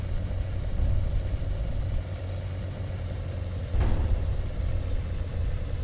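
A tank engine in the video game Sprocket strains as the vehicle climbs a hill, giving a steady low, loud rumble throughout with a brief sharp burst near the end.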